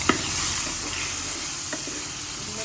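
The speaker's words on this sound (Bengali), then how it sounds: "চিংড়ি মাছটা আগে ভেজে নিচ্ছি" Prawns fry in a pan in a home kitchen, a steady close sizzle and hiss with a few brief stirring clicks, no voices.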